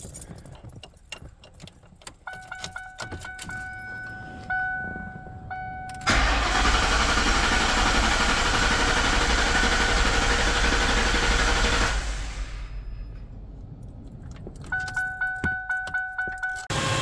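An old rig's engine is cranked over on the starter in a long whirring spin, with buzzing and clicking before and after, heard close and loud with no talking.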